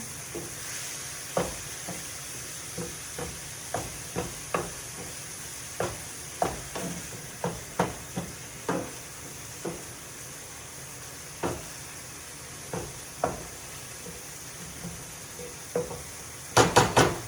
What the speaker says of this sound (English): Stir the meat a little bit.